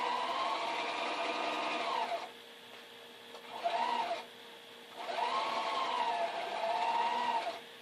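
A sewing machine stitches a quilt block in two long runs of rapid, whirring mechanical chatter, with a short burst in between, close and moderately loud and without talk.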